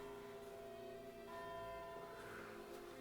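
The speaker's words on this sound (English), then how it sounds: "The bells of the church." Church bells ring out in a steady, humming wash of overlapping tones heard from a distance inside an abandoned WWII-era villa in Italy, faint and without speech.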